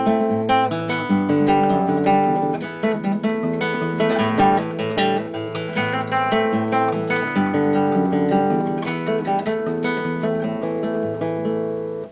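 An electric guitar plays a busy passage of quick double-string hammer-ons, notes tumbling rapidly and steadily without pause.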